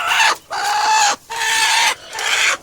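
A hen clucks in three loud, close bursts separated by short pauses, with harsh agitated calls during a natural brooding and egg-hatching setup.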